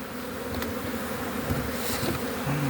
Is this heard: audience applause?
no